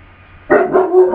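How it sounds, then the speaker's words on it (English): A single dog gives a short, close, loud bark followed by a brief whining yelp, abrupt after near silence. "Annoying dog."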